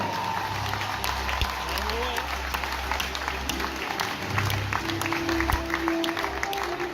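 Audience applause at a championship of younger studbook stallions, greeting stallions 492 and 504 in an arena; steady, dense clapping from a large crowd with a low hum underneath and a voice speaking over it.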